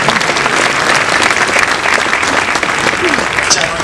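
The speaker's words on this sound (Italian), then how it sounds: "Davvero facciamo un applauso." Dense, steady applause from a large audience at a conference opening a new astronomy and space pavilion at the Volandia museum, continuous and loud for the whole stretch, with no let-up.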